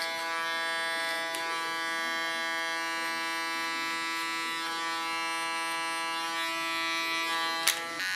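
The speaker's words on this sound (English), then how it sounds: "just use the tip of my clipper" An electric hair clipper works through hair during a mohawk cut, a steady close-up buzz with a strong tonal hum that runs continuously, broken by one brief sharp tap near the end.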